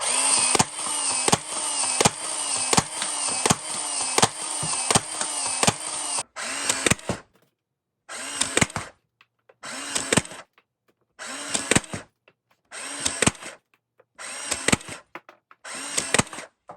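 A Nerf LMTD Halo Needler blaster fires in a rapid run of about a dozen mechanical whirring bursts with a regular rhythm, then slows to separate bursts with short silent gaps. The sound is close and loud, with no talk.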